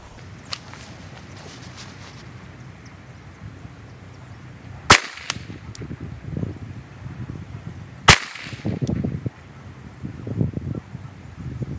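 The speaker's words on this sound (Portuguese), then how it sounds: "Sacar a arma do coldre, disparar 5 tiros com a mão dominante." Pistol shots fired at a target during a shooting drill after drawing from a holster: two sharp, loud cracks several seconds apart, with rustling, footsteps and faint outdoor ambience in between.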